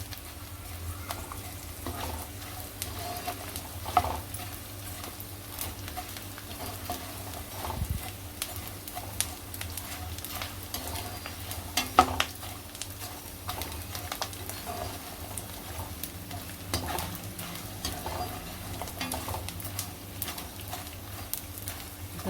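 Edible gum (dink) fries in a pan over a medium gas flame, a quiet steady sizzle with soft stirring scrapes and small pops, heard alone.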